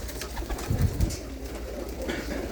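Grey desi pigeons give soft low cooing, a couple of brief throaty bursts close by, with no talk.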